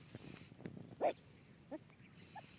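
Two small puppies let out a few faint, brief yips and whimpers, scattered apart against a quiet room background.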